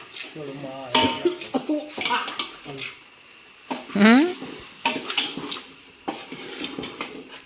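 Fish sizzle and fry in a pan at an outdoor village cookout, with utensils clinking against the pan. People talk and cough close by over the frying.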